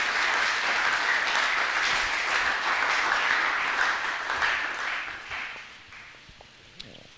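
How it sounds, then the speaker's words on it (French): A church congregation at a French-language prophetic service bursts into sustained applause and cheering, a dense wash of clapping that holds steady before fading out near the end. "Est-ce qu'on peut acclamer le Seigneur?"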